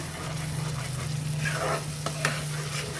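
Brinjal masala sizzles steadily in a pan as jaggery is stirred through it, with a close, continuous frying hiss, a low steady hum beneath, and a few brief scraping clinks near the end.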